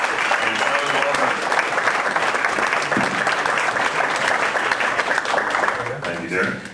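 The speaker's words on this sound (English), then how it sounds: "let's give these guys a big round of applause" A conference audience applauds its speakers in a full, sustained round of clapping that fades slightly at the end, with voices mixed in faintly.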